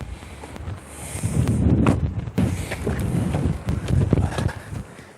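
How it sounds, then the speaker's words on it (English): Strong wind buffets the microphone from a parked or slowly moving car, producing irregular low rumbling gusts and bursts that rise and fall over several seconds. "It's extremely windy today"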